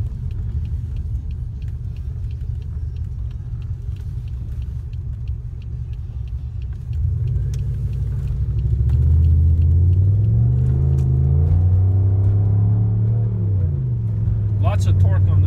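A 2006 Pontiac Grand Prix GXP's 5.3-liter V8 runs with a low steady rumble that swells louder midway as the engine revs, heard from inside the car.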